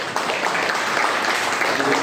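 A father claps at an event in Tirupati, making a dense, steady patter of applause that runs the whole short stretch, with faint voices in the background.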